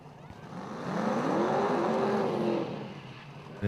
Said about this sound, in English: As they decide to do a short burnout